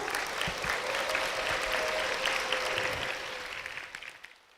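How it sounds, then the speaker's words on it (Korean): Applause from a church congregation welcoming a deacon, the husband of a testifying member, at a Full Gospel church in Bupyeong; steady dense clapping throughout, fading toward the end. "여러분 힘찬 박수로 부탁드립니다."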